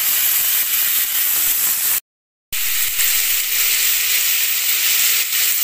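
Cut bitter gourd pieces hiss and sizzle steadily in hot tempering oil for a Telugu curry, a dense, even frying noise broken by a brief silent gap, with no talking.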